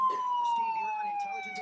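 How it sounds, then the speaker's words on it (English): A police car siren in the GTA IV video game wails in a single steady, slowly falling tone, close and fairly loud over light in-game background noise. "turn on the sirens so they think we're the cops."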